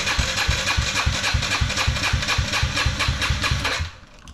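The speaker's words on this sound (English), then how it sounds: "you're gonna want to hold the throttle wide open and give it some crank" A 2005 Yamaha TTR90 engine cranks over with the throttle held wide open during a compression test. The starter makes a steady, rapid chugging pulse for about four seconds, close and loud, then cuts off.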